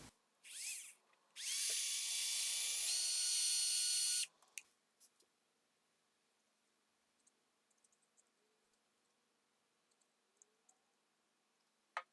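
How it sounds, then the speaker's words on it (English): A power drill whirs loudly for about three seconds, boring a hole through a wooden dowel at a steady pitch, then stops; a few faint clicks and taps follow in near silence. "we're going to want to drill a hole all the way through this middle section"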